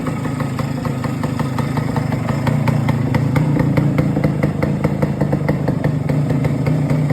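A 1967 Suzuki K125 motorcycle engine runs steadily at idle, sounding as a close, loud, even putter with rapid mechanical clatter throughout and no voices.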